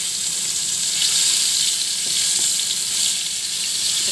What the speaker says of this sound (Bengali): একটু সবজি মানে আলু ফুলকপি আর বেগুনের ঝোল একটু কড়া করে ভাজা হলে ভালো লাগে